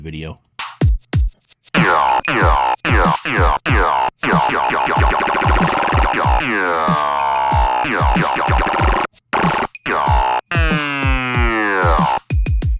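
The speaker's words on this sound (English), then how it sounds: "I showed you guys how to do like a formant growl." Formant growl synth patch built in Cardinal, a run of vowel-like wah growls that sweep and bend in pitch, loud and close in rhythmic bursts, with a brief spoken word near the start.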